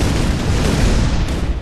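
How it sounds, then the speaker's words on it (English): A loud, dense blast rumbles from the Shell Shock Live tank artillery game, a sustained booming explosion filling the whole stretch with low roar and broad crackle before thinning slightly near the end. "Holy explosion."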